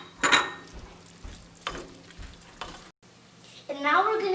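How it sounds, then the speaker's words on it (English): Mutton biryani mixture is stirred in a bowl, giving scraping, clattering strokes in short bursts, with a brief pause and a brighter rattle near the end. "And we're going to stir it up again."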